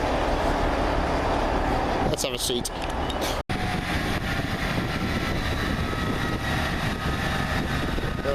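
A Class 158 diesel train, unit 158851, rumbles and drones steadily as it pulls away from Ashington station, loud and close, while a voice briefly speaks over the noise.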